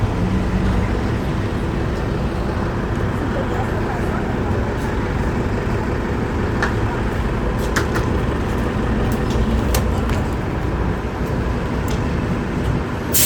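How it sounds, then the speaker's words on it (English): A select bus service bus passing through on a New York City street, a steady loud roar of engine and traffic noise throughout with scattered brief clanks and door-like clicks. "I'm gonna let this bus go through it."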